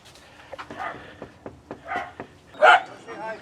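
A dog named Winston barking in short, sharp bursts on a shaded residential doorstep, with one louder bark near the end, while people talk around it.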